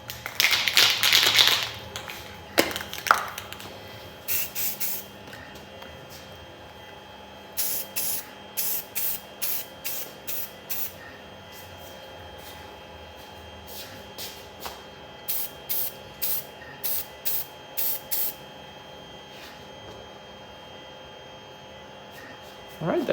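Aerosol can spraying silver paint onto a 3D printed Battle Fever J helmet, heard as repeated short hissing bursts in a regular rhythm, close and fairly loud, with a longer spray near the start.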